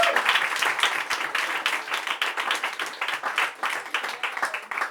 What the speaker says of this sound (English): give all of yourselves a massive round of applause